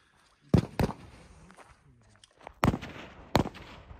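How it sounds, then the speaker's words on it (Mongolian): Gunfire rings out as four sharp, loud shots in two quick pairs, with a short quiet gap between the pairs and faint background noise in between. "буудлага гэж байна."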